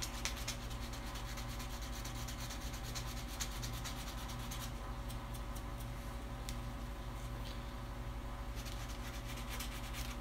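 Paint being sanded or scraped off a PVC fitting for a leaking aquarium tank, a steady, close, faint rasping rub that keeps on without a break, with no talking over it.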